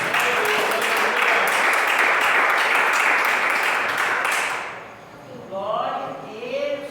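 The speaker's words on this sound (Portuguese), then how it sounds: "Palmas para o Senhor Jesus." A church congregation claims hands in praise, a dense sustained burst of applause that fills the space for several seconds, then fades out as a voice begins speaking.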